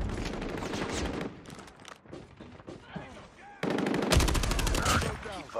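Rapid automatic gunfire from an AK117 in a first-person shooter video game rattles in bursts, loudest at the start and end, with a player talking over it in between.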